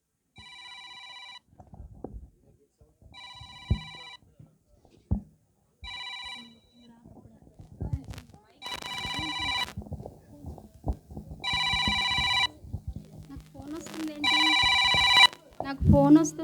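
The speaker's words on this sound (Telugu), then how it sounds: "నాకు ఫోన్ వస్తుందేంటి?" Telephone ringing in repeated bursts during a church skit, starting softer and growing louder, with stage voices and noise between the rings.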